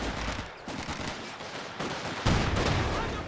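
Dense, continuous gunfire rattles in a Company of Heroes 2 battle, with anti-tank guns firing amid machine-gun bursts and heavier booms, loud and layered throughout with no clear breaks.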